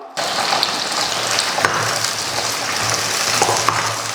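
Small shallots frying in a pan, a steady close sizzle with soft crackling that runs evenly throughout without talk.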